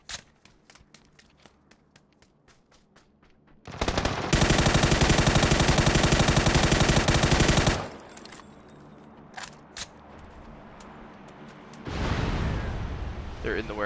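Sustained automatic gunfire sprayed at a car in the video game PUBG, a loud continuous burst lasting several seconds amid sparser shots before and after, and another heavy burst near the end, with someone talking over parts of it.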